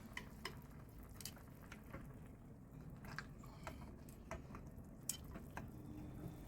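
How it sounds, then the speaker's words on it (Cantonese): Soy sauce chicken being turned over in a small, cramped pot gives faint scattered clinks, scrapes and bumps over a low simmering sizzle, with no talking. "跟住就反轉隻雞"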